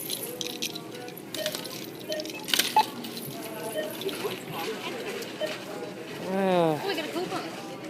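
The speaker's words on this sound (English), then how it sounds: "She's got to dig in her big purse for her keys." Keys jangle and clink as a woman digs through a big purse while paying at a checkout, with a busy, chattering background and talk nearby, the metallic rattling in brief bursts.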